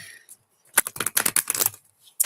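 A deck of tarot cards being shuffled up close, a quick run of crisp riffling snaps and papery clatter lasting about a second and a half, with short pauses before and after.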